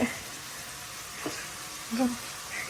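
Onions sauté in a pan with a steady soft sizzle, while a few faint clinks and stirring scrapes sound under a voice talking nearby.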